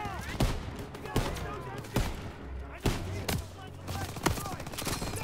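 Machine gun fire in the video game Call of Duty WWII, from a gun position in a barn: sharp, loud shots about once a second with rattling fire between them and game sounds underneath.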